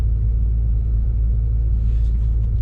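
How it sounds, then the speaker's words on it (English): A manual stick-shift car pulls away from a stop, its engine giving a loud, steady low rumble heard from inside the cabin. "release the brakes, release the clutch very slowly, and boom, you're off"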